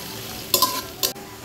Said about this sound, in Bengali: পেঁয়াজটাকে আমি সুন্দরভাবে একটু ফ্রাই করে নিব